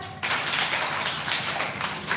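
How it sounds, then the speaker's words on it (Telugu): A group of people, likely children at a gathering, clap their hands together in a dense, sustained burst of applause that starts abruptly and continues steadily at close range without talk. "వెరీ గుడ్ క్లాప్స్ కొట్టండి"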